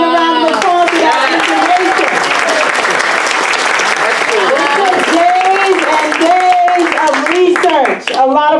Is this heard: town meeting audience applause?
yes